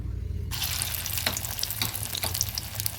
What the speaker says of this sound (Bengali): খুব একটা হাই ফ্লেম দেবো না মিডিয়াম ফ্লেমে ভেজে নেবো